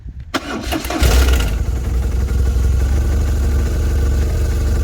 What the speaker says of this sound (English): All right, let's start up the bike.